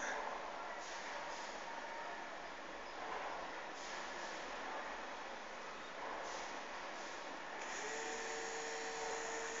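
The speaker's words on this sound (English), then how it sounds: "we are going to rotate the motor in the opposite direction" A small motor on an MSP430 Launchpad motor-control booster pack spins in reverse, giving a quiet, steady, drill-like whine that continues without a break.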